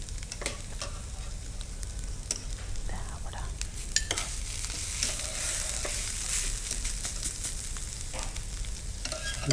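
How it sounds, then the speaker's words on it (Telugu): Grated fresh coconut fries in a pan with a steady, soft sizzle, broken by intermittent clinks and scrapes of a stirring spoon, and no talking. "మనం ఆల్రెడీ ఒక పక్కన సైడ్ కోకోనట్ని ఫ్రై చేసుకుంటున్నాము"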